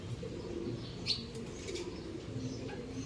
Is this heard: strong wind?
no